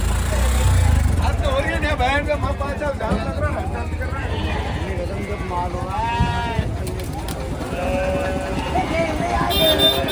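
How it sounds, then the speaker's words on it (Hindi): Sheep bleat repeatedly among a noisy crowd at a large livestock market in Balahedi, Rajasthan, with people talking and a constant low rumble of traffic throughout. "तो पूरे भेड़ यहाँ पे इस साइड बांधे हुए हैं।"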